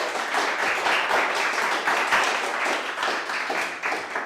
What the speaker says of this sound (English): A last round of applause